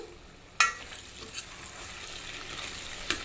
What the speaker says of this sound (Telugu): ఇప్పుడు టమాటా, మామిడికాయ వేసేయాలి. మామిడికాయ, టమాటా వేసేసాను.